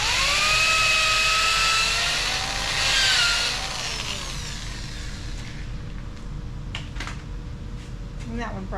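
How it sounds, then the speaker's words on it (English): A power drill whines and bites into a white birch branch being pre-drilled for a parrot perch, its pitch sliding as the bit loads up, then trailing off into a quieter hum with a few clicks. "I pre-drill it."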